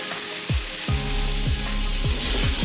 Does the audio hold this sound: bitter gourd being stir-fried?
yes